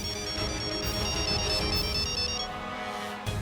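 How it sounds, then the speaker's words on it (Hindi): A melodic electronic ringtone plays steadily for a few seconds, a bright repeating tune over a soft background hum, then cuts off. "फोन बज रहा है।"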